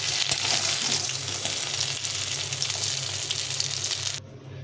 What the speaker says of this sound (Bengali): লাল লাল করে ভেজে নিয়েছি সবগুলো মাছ।